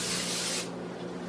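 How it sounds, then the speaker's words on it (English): Non-stick cooking spray hisses from a can into the bottom of a steam pot, a single loud close burst lasting about half a second before fading out. "we better spray the bottom of it just a little bit with this non-stick spray so it doesn't stick"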